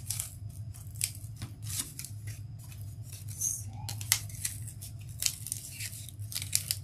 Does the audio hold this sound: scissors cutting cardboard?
yes